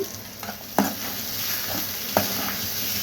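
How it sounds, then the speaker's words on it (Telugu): Prawns and masala fry in a pan with a steady background sizzle, while a utensil stirs through them with a couple of sharper scrapes. No voices are heard. "అట్లా కలుపుకుంటూ ఫ్రై చేసుకోవాలి"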